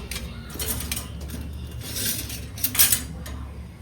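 A small steel container is handled at close range, with light metallic clinks and scrapes and a sharper clatter near the end, and no talking.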